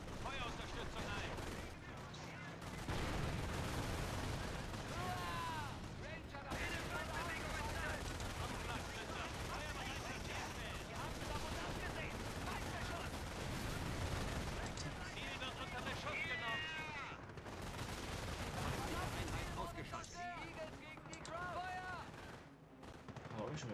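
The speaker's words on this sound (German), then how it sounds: "Leiten Feuerunterstützung ein." Gunfire and artillery fire-support barrages in the video game Company of Heroes, a dense continuous roar of rifle and machine-gun shots and heavy explosions throughout, with game voices faintly mixed in.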